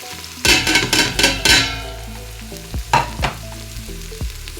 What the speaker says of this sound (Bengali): এই শুকনো মশলাগুলো আমি এখন এখানে এক এক করে অ্যাড করে দেবো